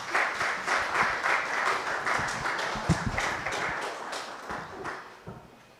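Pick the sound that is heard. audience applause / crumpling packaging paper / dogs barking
audience applause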